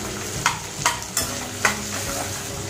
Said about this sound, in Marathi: आपला आता हा कांदा परततोय, तोपर्यंत आपण थांबूया, थोडासा लालसर होईल त्याला